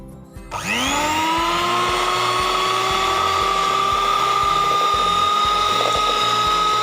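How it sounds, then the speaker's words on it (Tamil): An electric beater whirs as it whips cream for a homemade layer cake. It spins up to a steady, high, continuous whine and holds it without a break, loud and close, with no voices. "நம்ம பீட்டர் வச்சு விப்பிங் க்ரீம் வந்து ரெடி பண்ணிக்கலாம்."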